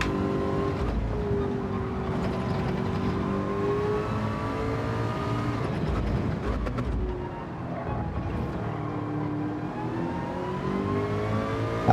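Porsche race car engine in an online lobby racing game, a steady loud drone with rising and falling pitch as gears change and the car accelerates, holding throughout with a brief dip near the middle, no talking.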